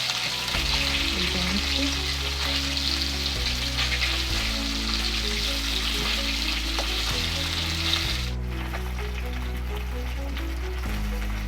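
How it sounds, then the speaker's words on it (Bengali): Fish pieces sizzle in hot oil in a pan after being turned over, a loud continuous frying crackle close up, steady with a slight drop in hiss near the end. "এক পিঠটা উল্টে নিচ্ছি।"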